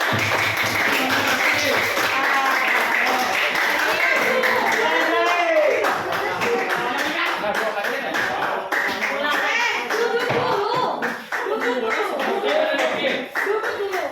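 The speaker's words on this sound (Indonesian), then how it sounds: "beri tepuk tangan untuk kelompok kita" A classroom group clapping hands together during a microteaching session, rhythmic clapping mixed with children's voices and chatter, loud and close throughout.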